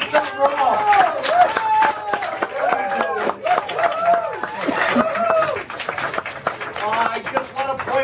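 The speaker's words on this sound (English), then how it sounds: "If you're not clapping, you're doing something wrong." A crowd at a gathering claps in a rhythmic, steady beat while voices shout and cheer loudly over the clapping throughout.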